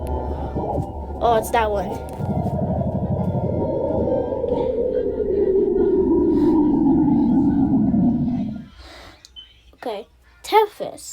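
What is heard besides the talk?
space sound recording of Saturn's moon Enceladus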